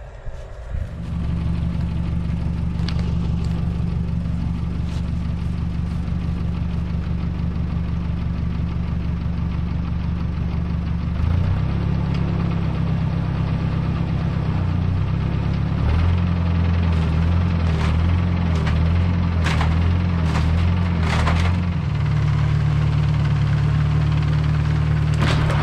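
A bulldozer's diesel engine runs at a shipping container barn build site, a loud, steady close idle and low rumble that shifts pitch midway as it revs up and down, with occasional clanks.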